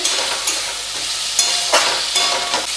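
Curry masala for a rohu fish curry with cauliflower and potato being sautéed in a pan with a little water over medium flame, a loud bright sizzle with a few spatula scrapes, close up.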